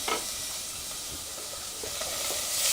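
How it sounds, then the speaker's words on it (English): Vegetables sizzle in warm oil while a wooden spoon stirs them, a steady close frying hiss with soft scraping strokes, the sizzle rising slightly toward the end, no voices. "give them a stir for me and coat them all in the oil, in the warm oil"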